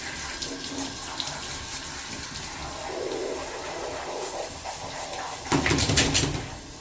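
Tap water runs steadily while a dog is rinsed at bath time, a continuous close hiss with a louder burst of splashing near the end.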